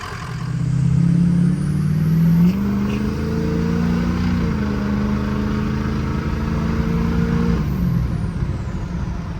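A Ford 6.0 Powerstroke diesel engine idles after a low fuel pressure fix, giving a loud, steady, close drone whose pitch settles after a brief early rise and holds even with no talking.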